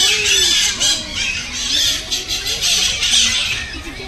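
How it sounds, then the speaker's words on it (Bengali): Parrot-like birds at Alipore Zoo in Kolkata squawk and squeal continuously, loud and close, with overlapping shrill calls filling the whole stretch and no talking. "আর অনেক রং বেরঙের পাখিও আছে ভেতরটা।"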